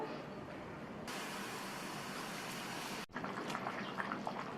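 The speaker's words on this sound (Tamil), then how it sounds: "நல்லா தளன்னு கொதிக்குது." A steady bubbling simmer from a pot of curry with coconut paste, continuous and close, with a faint soft hiss over the rolling boil.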